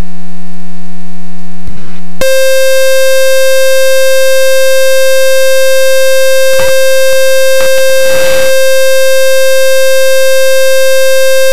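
A high-current alarm in an RV7 aircraft cockpit sounds a loud, steady electronic tone that holds for about nine seconds. It is broken by a few brief crackles and follows a low droning hum.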